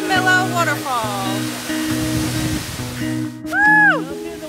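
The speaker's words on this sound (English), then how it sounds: "Waterfall." A waterfall on a solo backpacking trip roars as steady broadband rushing water, heard close and continuous beneath people's voices and excited calls that stand out over it.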